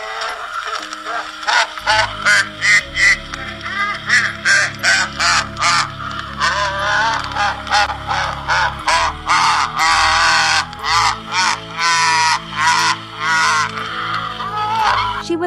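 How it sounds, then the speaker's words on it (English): A toy doll's laugh warped and distorted by dying batteries, loud repeated harsh cawing bursts in a rapid stuttering rhythm over a low droning hum, alone without talk. "The laughter of this doll after the batteries died was so terrifying"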